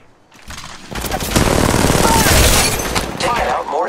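Rapid enemy automatic gunfire in a shooter video game, a dense sustained burst of loud overlapping shots with a game voice speaking over it.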